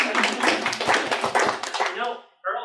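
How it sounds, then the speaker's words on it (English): Audience applause for a new member named Earl at a comedy roast, a dense burst of clapping that holds steady for about two seconds, then fades out before a voice comes in at the end. "You can applaud for Earl."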